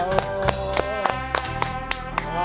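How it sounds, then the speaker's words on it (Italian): A small group gives Edoardo a round of applause backstage, sparse claps landing in a loose, roughly even rhythm over a held musical tone, close and moderately loud. "Un applauso a Edoardo che ha finito!"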